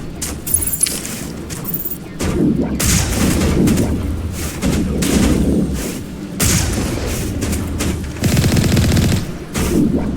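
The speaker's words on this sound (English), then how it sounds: "the machine gun will actually reach that far out" Machine gun fire in the video game Mass Effect, loud repeated bursts of rapid gunfire with booming impacts, broken by short pauses and layered over game ambience.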